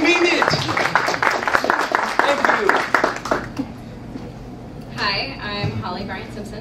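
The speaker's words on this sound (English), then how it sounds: "please give her a round of applause" Audience applause at a DragonCon 2016 convention panel on internet marketing for authors, a dense burst of clapping for about three seconds that fades out, with a voice speaking over it.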